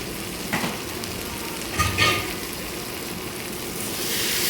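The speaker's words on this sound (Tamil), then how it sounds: "தக்காளியும் நல்லா வதங்கி வெந்து வரட்டும்" Tomatoes and onions frying in a pan with salt added, a soft continuous sizzle with occasional stirring scrapes, fairly quiet and close, no talking.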